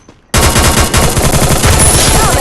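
Loud, rapid automatic gunfire in the video game Free Fire bursts in after a brief quiet moment, a dense, continuous rattle of close shots.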